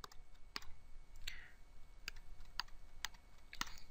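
Keys pressed on a graphing calculator while entering an integral, a series of about seven sharp, separate clicks spaced roughly half a second apart, fairly close and alone against a quiet background hiss.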